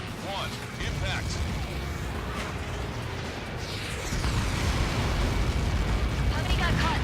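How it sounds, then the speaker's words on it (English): A massive explosion in the Ace Combat 7 flight game, a sustained heavy roaring blast rumble that deepens and grows louder partway through, mixed with aircraft engine noise and a voice speaking over it. "How many got caught in that explosion?"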